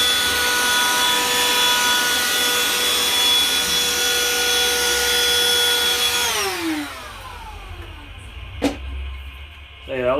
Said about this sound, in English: Hey, that little vacuum works great.